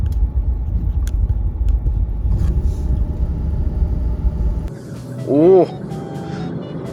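A small camper van fitted with a throttle controller set to sport mode pulls away, its low engine rumble steady and close for several seconds before easing off, followed by a brief surprised exclamation from someone inside.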